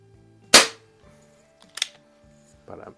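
A Crosman Fortify air rifle fires BBs: one sharp crack near the start, a smaller snap later and a soft clatter at the end, over a low steady hum with no talk.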